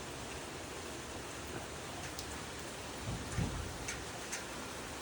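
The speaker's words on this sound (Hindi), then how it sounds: "भाई, बहुत तेज़ बारिश हो रही है।" Heavy rain pours steadily as a dense, hissing wash over a surface, with a few brief louder splashes or thumps near the end and no voices.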